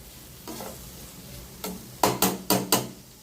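Bitter gourd, ivy gourd and capsicum sauté in a pan with a low sizzle, broken by a few sharp knocks of a spatula against the pan, four of them in quick succession near the end.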